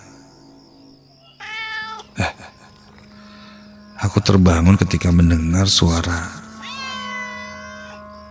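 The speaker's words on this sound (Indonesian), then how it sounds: "suara kucing di kamarku" A cat meows several times, clear and close, between stretches of someone narrating.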